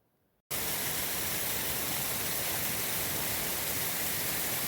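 Loud, steady rushing roar of a cascading waterfall in the Glacier Peak Wilderness, close by and unbroken after a brief quiet opening, with no voices over it.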